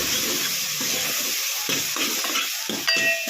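Mushroom paneer masala is stirred in a hot pan, a spatula scraping in short rhythmic strokes over a constant sizzle of frying.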